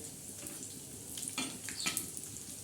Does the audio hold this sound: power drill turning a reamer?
no